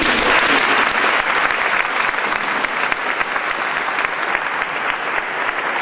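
A church congregation at a deacon ordination applauds volunteers, loud and continuous clapping from many hands with crisp individual claps standing out, gradually easing slightly in level.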